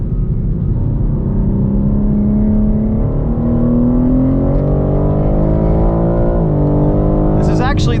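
A 2021 BMW M3 Competition drives hard on a race track, its engine a loud, continuous drone that climbs steadily in pitch, drops briefly with a shift near the end, then pulls on.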